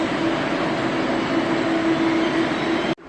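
A modern train at a station gives a steady rumbling roar with a faint sustained tone, and a sudden clunk near the end cuts the sound briefly.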